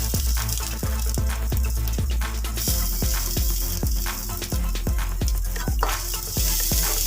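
Curry leaves hit hot oil with grated coconut in a pan, a loud, close, steady sizzle broken by rhythmic scraping and tapping of a spoon stirring against the pan.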